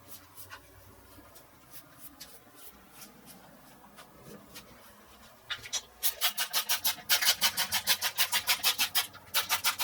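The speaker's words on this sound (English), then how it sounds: "The sound of the brush through the beard." Soft rubbing and scratching bristles at first, then a run of louder, rhythmic brush strokes through coarse hair, close up, with no voices.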